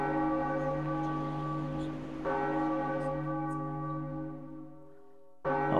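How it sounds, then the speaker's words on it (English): A giant bell rings at the Tower of the Gods in The Legend of Zelda: The Wind Waker, its loud sustained tone restruck once partway through and ringing for several seconds before a brief drop and another strike. "There you go, ring the giant bell."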